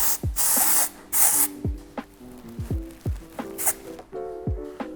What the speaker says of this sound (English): I'm going to spray her hair